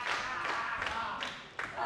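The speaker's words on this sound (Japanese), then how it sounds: "その拍手が降り注ぎます。" Warm applause from a pro wrestling crowd at a Pro Wrestling NOAH six-man tag match, a handful of distinct rhythmic claps and thuds over a dense arena background.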